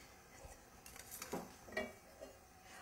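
Oil being stirred around the bottom of a heating cooking pot for a chickpea curry, heard as a few soft, faint scrapes and clinks of a utensil against the metal, spaced irregularly.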